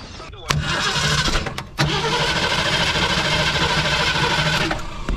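An engine turns over on a Mustang fastback in a backyard and settles into a rough, loud idle, with a second cranking burst partway through and people talking over it.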